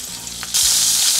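Oil and butter hit a hot pan for butter paneer and break into a loud, steady, close sizzle that continues without a pause.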